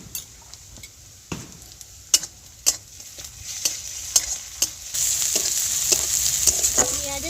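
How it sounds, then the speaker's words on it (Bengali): Garlic paste and onion frying in a pan, a steady close sizzle broken by sharp spatula scrapes and taps, the hiss swelling louder toward the end. "পেঁয়াজের সাথে রসুনটা একটু ভেজে নিয়েছি"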